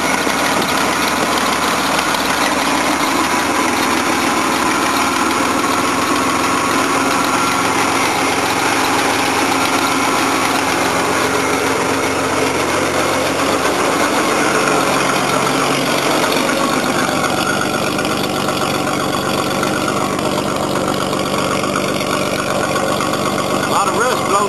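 A 1987 Chevrolet S15 engine idles after a cold start, its first in over a year, with an exhaust leak and rust blowing from the exhaust. The steady, close idle holds throughout with a rough, noisy exhaust tone.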